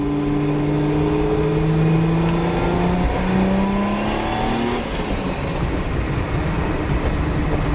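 A turbocharged Nissan Skyline GT-R R32 engine with a T88 turbo running 0.9 psi pulls under load, its tone rising steadily through the gears with a whine, then easing off into a lower rumble.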